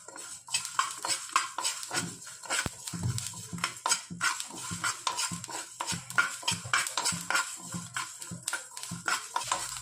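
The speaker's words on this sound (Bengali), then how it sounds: "শুকনো খোলায় একটু ভেজে নেব" A spoon stirs and scrapes whole coriander, fenugreek, fennel and nigella seeds dry-roasting in a hot pan, giving busy, irregular clatters and rattles close up, with a faint sizzle underneath and no voice.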